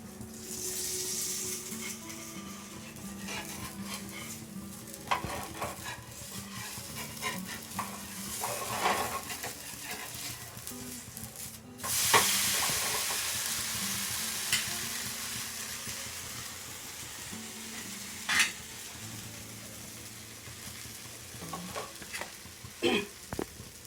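Rava dosa frying on a pan with oil drizzled over it, a steady close sizzle that swells loudly midway, with occasional scrapes and clinks of a spatula.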